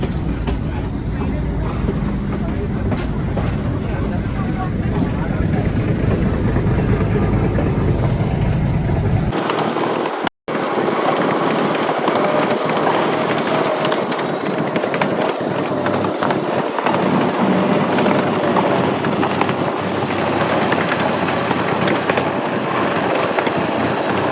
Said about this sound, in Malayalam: അങ്ങനെ ലൗഡേരി എന്ന് പറഞ്ഞ അടുത്ത സ്റ്റേഷൻ എത്തി ഇത് വേറൊരു ട്രെയിൻ